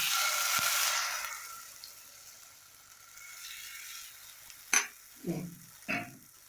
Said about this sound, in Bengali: আমি কড়ায় তেল দিয়েছি। এবার আমি এই ব্যাটারটা অল্প করে এর মধ্যে